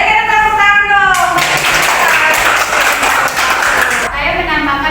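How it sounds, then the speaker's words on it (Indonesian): A classroom of students clapping together in a dense, steady burst of applause lasting several seconds, fairly loud and close, with a voice speaking briefly at the start. "Ayo kita tepuk tangan dong."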